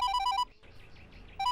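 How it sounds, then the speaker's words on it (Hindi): An electronic telephone ringtone trills in two loud bursts of repeated beeping tones, broken by a short pause with faint background rustle between them. "अब किसका फोन आया होगा?"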